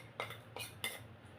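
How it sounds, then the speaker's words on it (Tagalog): A spoon stirring pepper into a cucumber salad, three soft metallic clinks against a bowl spaced a fraction of a second apart over a low steady background hum, quiet and close. "Haluin din natin yung paminta."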